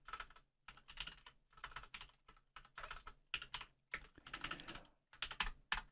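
Typing on a computer keyboard while setting up a Love2D game project, heard as bursts of rapid, close key clicks separated by short pauses.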